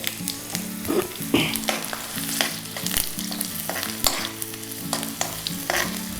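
Steady crackling sizzle of cumin seeds frying in hot ghee, with a few clinks of stirring; no voices.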